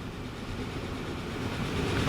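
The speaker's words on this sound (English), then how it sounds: "There is a train coming to pick them up." A train rolling along in the Transport Fever 2 game, a steady low rumble with faint rail texture that swells slightly toward the end, no voices.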